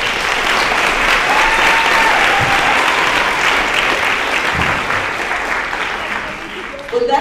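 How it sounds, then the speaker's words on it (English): An audience at a high school awards ceremony breaks into sustained applause, a dense wash of clapping that holds steady for several seconds before tapering slightly near the end. "I think you should all give yourselves a round of applause."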